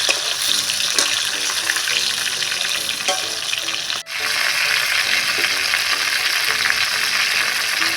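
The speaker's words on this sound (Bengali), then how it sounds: "একটু হালকা করে আমি ভেজে নেব।" Stuffed pointed gourds frying lightly in oil, a dense, loud and continuous sizzle with faint stirring clicks and one brief dropout midway, heard up close with no one speaking.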